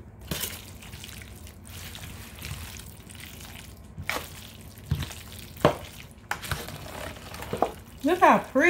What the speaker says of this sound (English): So mix this in real good.